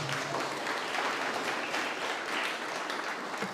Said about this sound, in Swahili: Mpe Yesu makofi mazuri